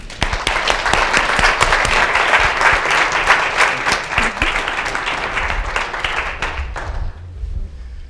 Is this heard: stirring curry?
no